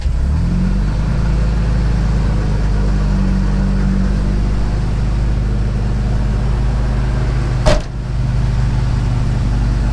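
An old Jeep converted from a fire truck runs steadily, its low engine drone constant and close while driving around a yard, with a brief sharp click near the end.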